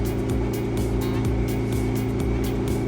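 Repowered bus engine revving under throttle, a loud steady low rumble with strong harmonic drone holding near and continuous throughout, slight pitch shifts as the throttle moves.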